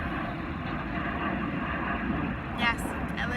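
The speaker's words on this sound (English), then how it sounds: "sorry, plane." An airplane passes over near an airport, heard as a steady, broad engine roar that fills the whole clip behind a speaking voice.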